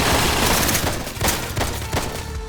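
Rapid gunfire pours at the player in the video game Intravenous 2, a loud, continuous barrage of overlapping shots with heavy low-end punches and no pauses.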